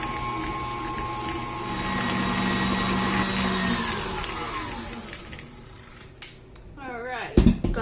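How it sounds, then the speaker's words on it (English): Butter being whipped smooth for honey butter with a mixer, a steady loud motor whir that holds for several seconds, then slows and cuts off, followed by a few clatters and knocks. "Mix this together, whip it until smooth."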